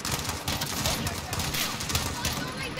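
Dense gunfire in Call of Duty: Modern Warfare crackles as a rapid, continuous fusillade of shots at close to mid range, with a voice talking over it.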